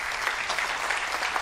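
Festival gala audience clapping as the jury president, a Turkmen director, is welcomed on stage; dense, even applause from a large crowd throughout.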